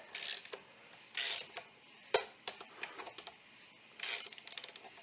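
Wrench work on the connecting rod bolts of a 1929 Briggs & Stratton model PB engine: several short metallic ratcheting bursts and clicks with small knocks between them, close by with no talk.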